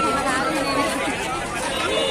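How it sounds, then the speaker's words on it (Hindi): A busy fair crowd near the town squares of Durg produces loud, dense chatter, many overlapping voices close by with no pause. "पूरा मेला भीड़ लगे"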